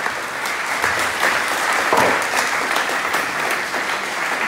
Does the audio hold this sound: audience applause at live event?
yes